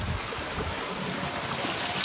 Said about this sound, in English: The water is coming out from rock.